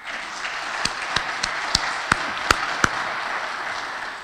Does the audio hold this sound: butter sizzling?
no